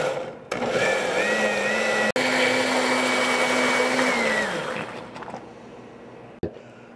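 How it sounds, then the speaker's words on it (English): A blender whirs loudly in a single burst of several seconds, then spins down and stops. "pulse your blender so it doesn't come up out and fly all around"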